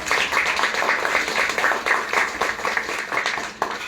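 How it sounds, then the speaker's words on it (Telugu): A church congregation claps together for Jesus during a prayer sermon, a dense sustained wash of many hands with rhythmic pulses, loud and close throughout. "చప్పట్లు కొట్టండి యేసయ్య కోసం."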